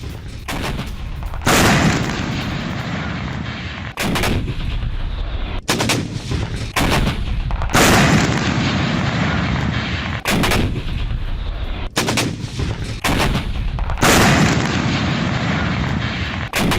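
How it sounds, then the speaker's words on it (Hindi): Loud, heavy blasts and gunfire strike Russian T-72 tanks in combat footage, coming as a series of booming bursts cut abruptly one after another, with no voices. "बैक टू बैक 2 रूसी टैंकों को तबाह किया गया। रूस के T-72 टैंकों के कैसे परखच्चे उड़ा दिए गए"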